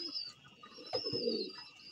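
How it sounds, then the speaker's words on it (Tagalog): A pigeon coos softly nearby, a low throaty rolling murmur rising briefly, with faint high chirps in the background. "Ang ibon pala ni Boss Eddie Noble"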